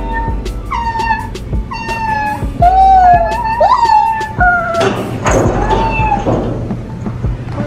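Several cats meow repeatedly at close range, overlapping rising and falling calls, with a few thumps and a person briefly speaking near the end.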